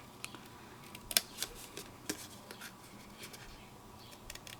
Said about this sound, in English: I'm kind of keeping my scissors pointy and kind of getting them in there.